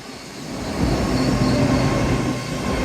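Train rolling past at Dawlish on the Devon coast, a loud rumbling rush of wheels and carriages that swells and holds close by, with no voices.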